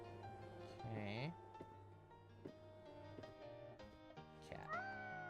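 A video game cat meows, a few short rising and falling meows that stand out over soft background game music, fairly close and clear.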